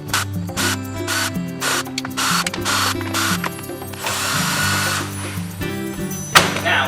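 Power drill backing out screws from speaker grills inside a bus, in repeated short bursts of whirring with brief pauses, close and fairly loud.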